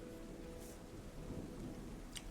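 Rain falling in the Terra Nil video game: a faint, steady patter with a low rumbling undertone resembling distant thunder, continuous and without voices.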